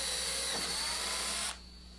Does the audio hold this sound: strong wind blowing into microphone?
no